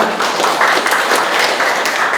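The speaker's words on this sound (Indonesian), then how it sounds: "kita berikan tepuk tangan dulu kita" An audience at a church retreat talk show breaks into applause, a loud, dense and sustained patter of many hands clapping with no break.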